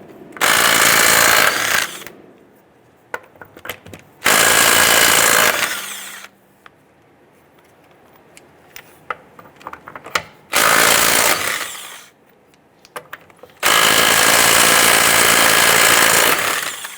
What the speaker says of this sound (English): we're going to go ahead and loosen and remove our lug nuts